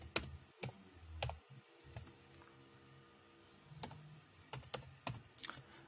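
Keys clatter on a nearby computer keyboard as a command is typed in a Windows command prompt, coming in short uneven bursts of crisp clicks separated by quiet pauses.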